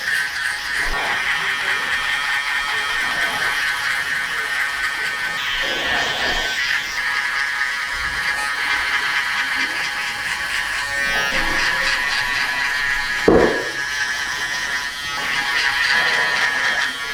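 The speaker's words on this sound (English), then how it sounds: "So onto the shavers now" Electric shaver buzzing steadily up close as it clips hair during a high and tight blend haircut, a continuous whine with small shifts as the blade moves across the head.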